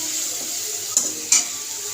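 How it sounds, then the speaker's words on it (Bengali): Spice paste of turmeric and chilli powder with a splash of water stirred in hot oil, a steady close frying hiss with two sharp scraping clicks of the spoon against the pan. "অল্প একটু জল দিয়ে নাড়াচাড়া করে নিলাম।"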